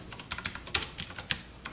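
Quick keystrokes on a computer keyboard, about a dozen light taps in an uneven run as printf code is entered during a Java programming lesson, close and alone.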